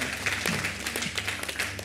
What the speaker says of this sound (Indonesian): Tepuk tangan dulu buat Tuhan Allah kita.